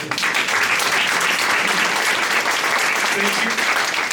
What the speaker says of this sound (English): let's give a round of applause to our 3 candidates.